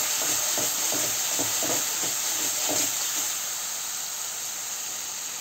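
Onions and spices sizzle in a pan while chicken curry is cooked, a steady hissing fry with faint rhythmic stirring scrapes in the first few seconds and no talking.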